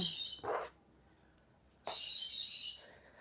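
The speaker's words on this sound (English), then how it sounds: "my birds are waking up. Good morning from the birds" Pet birds call indoors in the morning, with two loud bursts of chirping split by a short quiet gap.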